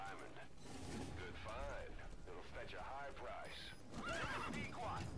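A horse in Metal Gear Solid 5: The Phantom Pain whinnies repeatedly amid clip-clopping hooves and mechanical game noises, with someone talking over the game sounds.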